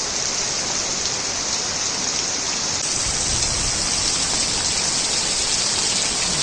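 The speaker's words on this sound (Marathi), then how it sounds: "गडगडाटासह पाऊस आला असं आपण म्हणू शकतो गडगडायला पण लागलाय जोरात" Heavy pre-monsoon rain pours in the Konkan region as a dense, steady roar that stays loud and unbroken throughout, with no talking.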